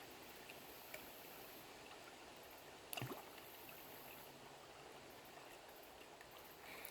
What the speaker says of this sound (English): the water's just like rushing over it